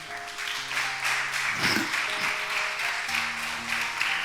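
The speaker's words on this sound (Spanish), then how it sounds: "Dale un aplauso al Señor" A church congregation applauds the Lord, a broad, continuous clapping from a crowd that runs throughout, with sustained organ or keyboard chords beneath it.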